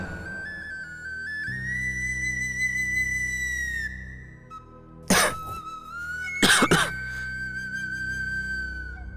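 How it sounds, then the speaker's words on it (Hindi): Two short, harsh coughing fits burst out close by over a steady tonal background hum, with quiet gaps between them. "बहुत खांसी आ रही है बेटा"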